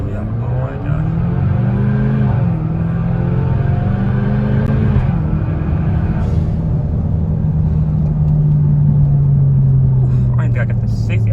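A Kia Stinger 2.0 launching and accelerating hard, its engine note rising and droning loudly through the gears, heard from inside the car with a person talking over it.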